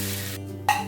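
Tomato dosa batter hits a hot nonstick griddle with a short, close hiss of sizzling that flares up sharply near the end of a brief moment.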